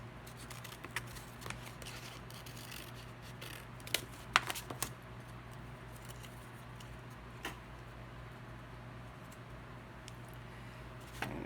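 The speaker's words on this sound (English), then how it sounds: "And I'm going to cut another set of petals." Scissors cut through paper to make petals for a collage, giving soft, sparse snips and crisp clicks scattered over a faint steady hum, with a small cluster of sharper cuts in the middle.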